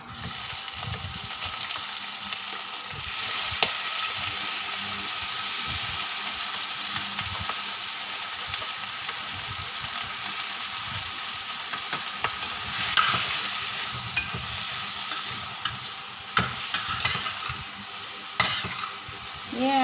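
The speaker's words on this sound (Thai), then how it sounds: "ใส่กุ้งแล้วก็ผัด ผัดให้มันหอมแล้วก็เดี๋ยวเอาขึ้นนะคะ" Shrimp stir-fried in a pan sizzle continuously for about twenty seconds, with a utensil scraping and tossing in irregular bursts, close and fairly loud, and no talking.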